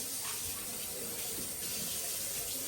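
Water from a household tap runs steadily into a sink as a child washes both hands, a continuous close splashing hiss with no pause.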